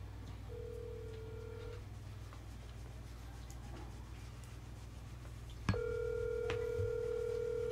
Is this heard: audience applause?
no